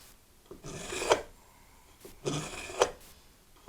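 Two slow rasping strokes of a knife blade drawn through a Sharpal 6-in-1 knife sharpener on a counter, each stroke a close, gritty scrape ending in a sharper scratch.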